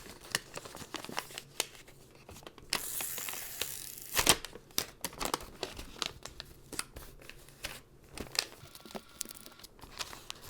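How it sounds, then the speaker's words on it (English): Wrapping paper being pressed down and its edge taped close by, with steady crinkling and small taps and a louder tearing burst of tape near the third second; no talking. "and then I'll also tape this edge"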